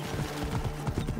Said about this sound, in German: es ist ja schon schwer, mit dem Pferd langsam zu reiten.